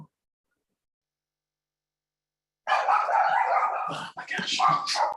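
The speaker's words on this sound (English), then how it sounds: "I apologize that my dog keeps barking." A dog in a home barks in a loud, close burst of repeated barks and yips after several seconds of silence during an online convention call, with a brief exclamation from a person.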